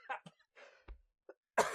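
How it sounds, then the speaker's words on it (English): A man coughs in a short fit, several sharp, close coughs with brief pauses between them and a throat-clearing rasp among them. "I almost made it all without a big coughing fit"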